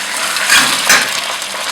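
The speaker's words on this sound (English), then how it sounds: "fry the meat till the raw smell of the meat disappears" Meat sizzles loudly in a pan with browned onions for a spiced Indian mutton curry, a close, steady hiss with a couple of brief surges as it is stirred.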